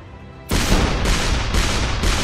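Portal gun shot in the ShellShock Live artillery game: after a quiet lead-in comes a sudden loud blast, followed by a string of heavy booming impacts at roughly half-second intervals.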